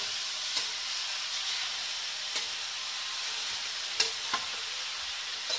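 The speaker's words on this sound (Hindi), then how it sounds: "इसको कम से कम 5 मिनट घी में भूनना है।" Grated carrots frying in ghee for gajar ka halwa, a steady soft sizzle running throughout with occasional light clinks and scrapes from stirring, close and fairly quiet, with no talking.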